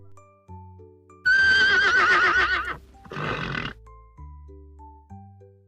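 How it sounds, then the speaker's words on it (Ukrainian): A horse gives a loud, shrill whinny followed by a shorter second neigh, framed by gentle tinkling musical notes. "Кінь."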